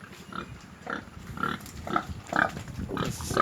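Pigs and piglets on a farm, grunting in a series of short repeated snorts and oinks at a roughly regular rhythm, close and moderately loud, with a few squeals mixed in and no talk.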